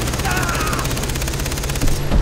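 Rapid bursts of automatic gunfire crackle steadily in a Far Cry 3 firefight, a dense continuous rattle with a low rumble beneath, rising briefly louder near the end; a voice shouts over it.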